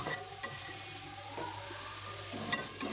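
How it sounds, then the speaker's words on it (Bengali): Red amaranth greens fry with onion, garlic and dried chilli in a pan, giving a steady broad sizzle with a few scraping stirs, close and continuous, with no talking. "আমি একটু লবণ হলুদ দিয়ে ভেজে নিয়ে তারপর কিন্তু এই লাল শাকটা দিয়ে দিলাম"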